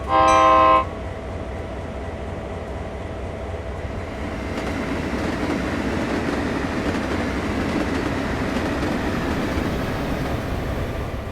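Union Pacific GP38-2 diesel locomotive in Train Sim World 5 on a US freight route, opening with a loud horn blast, then a steady rolling rumble of engine and wheels that continues without a break to the end.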